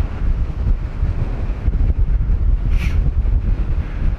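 Strong wind roars across an open hillside slope where a glider is being flown, buffeting the microphone with a loud, continuous low rumble that surges and dips, no voices over it.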